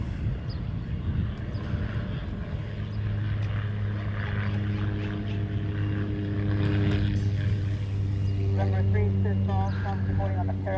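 A C-130 propeller aircraft drones at a distance, a low steady hum that swells slightly toward the end, with people talking over it.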